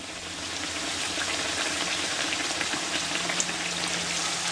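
Frybread dough frying in hot oil, a steady broadband sizzle with fine popping crackles, close and continuous throughout.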